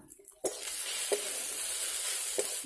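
Ground turmeric, salt, chilli and cumin powder hiss and sizzle in hot oil in a pan, with a steady frying crackle broken by a few short stirring scrapes.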